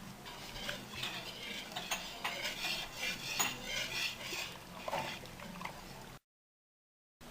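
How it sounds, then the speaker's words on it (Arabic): Milk being stirred into cooked flour in a pot for a Moroccan dessert, with continuous close clinking and scraping of a spoon and a wet, liquid swish. The stirring stops abruptly near the end. "كنضيف ليه دابا الحليب"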